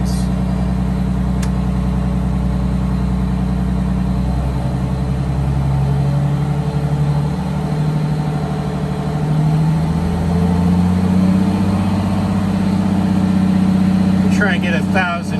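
A Detroit Diesel blower engine idles with a loud, steady drone, then revs up, its pitch rising and holding higher near the end.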